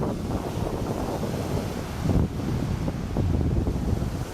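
Choppy, wind-driven waves pound a Lake Michigan beach along Sleeping Bear Dunes National Lakeshore, a loud continuous low rumble of surf and gusting wind buffeting the microphone, with heavier surges of breaking water partway through.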